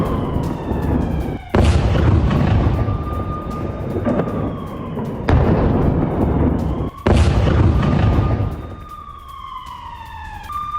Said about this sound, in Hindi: तुला के एलेक्सिन के आसमान में जोरदार धमाका उठा